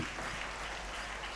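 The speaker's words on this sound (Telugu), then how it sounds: "గట్టిగా చప్పట్లు కొట్టండి." A congregation at a Telugu Mass in St Anthony's shrine in Hyderabad claps loudly, and a dense, even wash of applause fills the short stretch.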